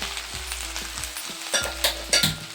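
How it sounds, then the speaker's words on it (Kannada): Okra sizzling in hot oil in a pan on a home stove, a steady fine crackle broken by scraping stirs and a few louder clatters toward the end, with no talking. "ಇದನ್ನು ಚೆನ್ನಾಗಿ ಫ್ರೈ ಮಾಡ್ಕೊಳ್ಳೋಣ"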